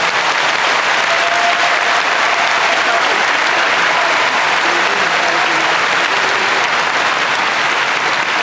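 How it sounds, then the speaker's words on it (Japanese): An audience at a sumo retirement and hair-cutting ceremony for the wrestler Takarafuji gives sustained, loud applause that stays steady and full throughout. "さあ、皆さん盛大な拍手をお願いいたします。"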